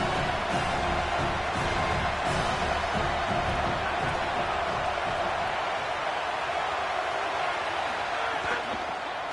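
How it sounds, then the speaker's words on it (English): Dense home crowd noise fills a football stadium during a Michigan game, a steady loud roar of many voices throughout with a few brief swells, under play-by-play commentary. "Man, this crowd really affecting the football game."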